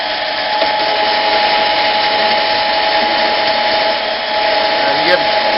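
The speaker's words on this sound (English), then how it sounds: "turn it on, about 600 RPMs. I'm just going to shave a little bit off." A Harbor Freight 7x10 mini metal lathe running at about 600 RPM while shaving a little metal off a workpiece gives a loud, steady whine with a constant tone, sounding close and continuous throughout.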